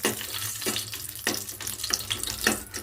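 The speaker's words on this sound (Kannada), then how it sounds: "5 ರಿಂದ 6 ಒಣ ಮೆಣಸಿನ್ಕಾಯಿ ಹಾಕೊಳ್ಕತ್ತೀನಿ" Dry red chillies frying in a small ladle of oil in a pan, a steady close sizzle with soft crackling bursts and stirring scrapes recurring roughly every half second.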